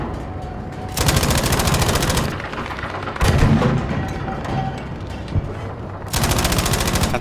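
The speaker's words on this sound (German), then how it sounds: "Kann zwar nichts erkennen, aber ich baller mal." Automatic weapons fire in Battlefield 5: several long, rapid bursts of machine-gun fire, loud and close, separated by short lulls of background battle noise.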